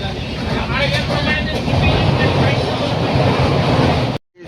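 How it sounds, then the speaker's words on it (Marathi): A passenger train on the Borivali to Jaipur route, nearing Surat, rumbles and clatters loudly and steadily close by, then the sound cuts off abruptly at the end. "ट्रेन स्लो झाले जरा."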